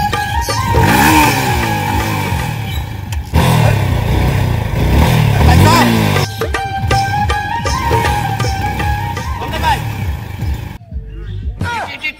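A loud motorcycle engine revs and idles close by, rising and falling in pitch, with clattering and brief cuts between takes.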